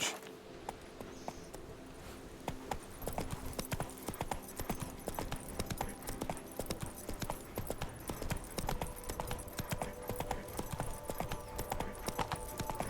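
Roach the horse in The Witcher 3 game trots with steady, even clip-clop hoofbeats throughout, fairly near and clear, over soft ambient game sounds and faint music.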